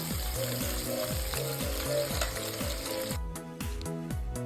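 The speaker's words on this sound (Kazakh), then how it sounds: "Сондықтан етімді де қуырып алам." Meat frying in a pan, a steady close sizzle and crackle running continuously under a rhythmic musical background, no talk.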